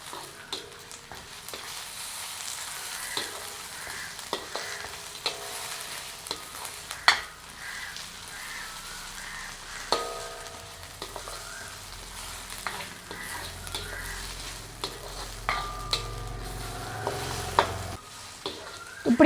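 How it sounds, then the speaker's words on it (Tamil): Crushed ginger-garlic paste sautés in a pan for a mutton curry, an even close sizzle punctuated by repeated sharp scrapes and taps of a spoon stirring throughout. "நாங்கள் அந்த இடித்து வச்ச இஞ்சி உள்ளி பேஸ்ட்டை இதுக்குள்ளே சேர்த்துருவோம். அப்படியே சேர்த்து வதக்கி கொள்வோம்."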